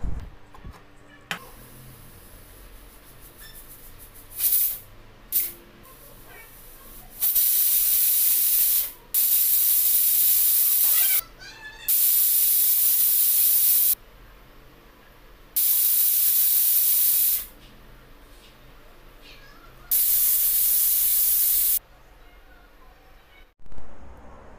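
A pressure cooker cooking rice blasts several long, loud hissing whistles of steam one after another, separated by quieter gaps, with faint clinks between them.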